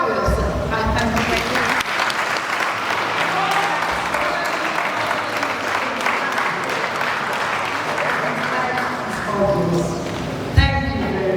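An audience at a university valedictory lecture for the Department of Zoology breaks into sustained loud applause, dense clapping filling the room and holding steady, with voices mixed in and a sharp knock near the end.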